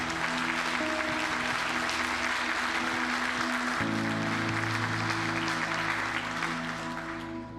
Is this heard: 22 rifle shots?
no